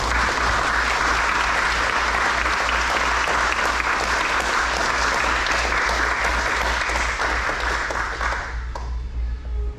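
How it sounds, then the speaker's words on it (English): Audience applause at a Marine Corps retirement ceremony welcoming the guests: loud, dense clapping from a large crowd that holds steady for nearly ten seconds, then begins to thin out at the very end. "Please join me in a round of applause to welcome all our guests."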